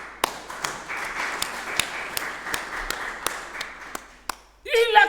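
A church congregation clapping for the Lord in a steady, evenly spaced beat, sharp claps over a murmur of voices, ending as a voice speaks.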